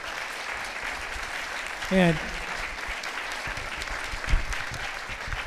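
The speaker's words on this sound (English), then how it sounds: "I'd like y'all just to give a round of applause to our panelists" Audience applause for a panel of speakers at a climate science policy event, a continuous wash of clapping with a brief spoken word from a voice partway through.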